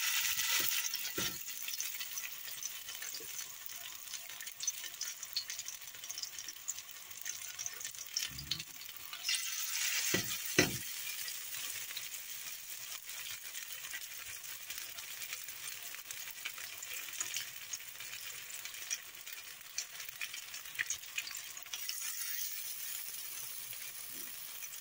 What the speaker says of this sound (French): J'ai rajouté de l'huile dans la poêle et je vais façonner mes petites boulettes de légumes afin de les faire cuire